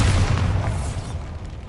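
A Bombarda spell explodes in the Hogwarts Legacy video game: a loud, deep boom that rumbles on for over a second and slowly fades, with no voices.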